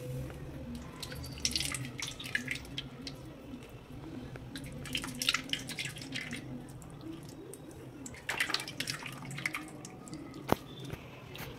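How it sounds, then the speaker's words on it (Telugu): Soaked tamarind pulp is squeezed by hand to extract juice, giving wet squishing and dripping sounds in irregular bursts, close and fairly soft, with liquid trickling between squeezes. "ఈ పులుసు అంతా ఇలా పిండుకున్నాను కదండి మొత్తము"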